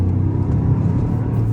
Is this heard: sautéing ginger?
no